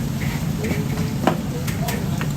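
Vegetables tossed into a hot wok, a continuous close sizzle with a couple of sharp metallic clinks of the utensil against the pan, and nobody speaking.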